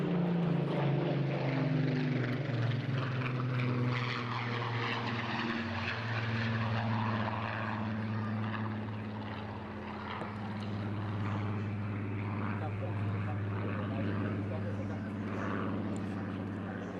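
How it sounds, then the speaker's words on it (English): Vintage propeller aircraft passing at the Eastbourne International Airshow, a steady droning engine tone that shifts pitch as it goes by and fades slightly midway, with a commentator talking over it. "He rolled into that, so I was hoping we might get another pass, but Graham easing it up to slightly higher"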